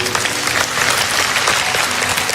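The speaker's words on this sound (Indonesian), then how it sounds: "Yang percaya dan menerima, kasih tepuk tangan untuk Tuhan." A church congregation applauds, a dense, steady wash of many hands clapping at once that fills the room with no talk over it.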